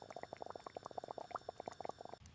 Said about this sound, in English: Tonkotsu means the pot boils hard for 12 full hours.